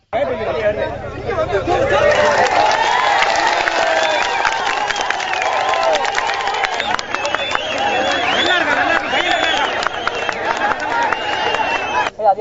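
Crowd of onlookers cheering and shouting in joy after a young child is rescued from a borewell near Nellai, a loud continuous roar of excited voices and babble with scattered whistles, close and unbroken.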